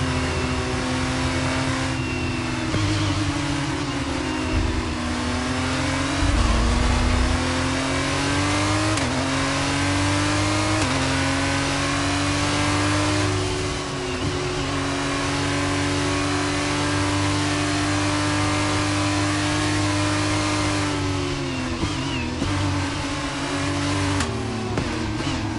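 An F2 race car engine in the F1 23 racing game revs and shifts through gears, its mid-pitched whine rising and dipping continuously at close range during a warm-up lap in Austria.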